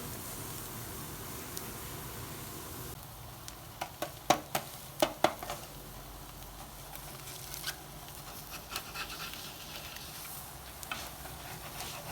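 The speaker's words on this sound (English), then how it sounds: "So there's our ham, and we're going to add it to a hot skillet" Oil-free plant-based ham sizzles softly in a hot skillet, a faint steady hiss broken by a cluster of small crackling pops, with no talking.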